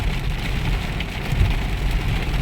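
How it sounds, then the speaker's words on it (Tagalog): Heavy afternoon rain pours down in a dense, steady hiss and patter, loud and close, with a low rumble underneath and no one speaking. "malakas ang ulan."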